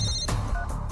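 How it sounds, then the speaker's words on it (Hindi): A phone rings in short, repeated electronic bursts, loud and close, with a steady tonal hum running between the rings. "फोन बज उठा।"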